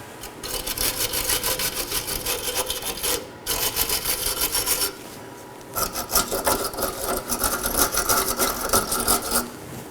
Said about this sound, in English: I'm going to clean both of my mating surfaces with a wire brush